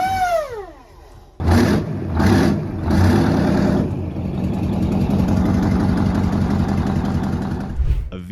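A Detroit Diesel 16V149 TIB V16 diesel engine starts up and runs loud and steady, a dense throbbing rumble after a brief rising whine, with a sharp clunk near the end.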